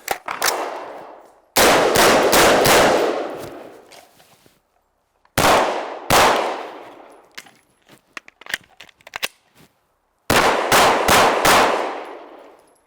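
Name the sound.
rifle shots during a shooting drill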